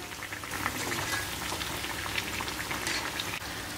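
Steady crackling and bubbling of semolina kachori deep frying in hot oil, a dense sizzle with small pops throughout.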